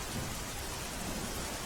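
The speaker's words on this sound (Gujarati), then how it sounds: "સુરતમાં ફરી ધોધમાર વરસાદની શરૂઆત થઈ છે" Heavy monsoon downpour over Surat, a dense, steady roar of rain with a low rumbling undertone, close and continuous with no voices.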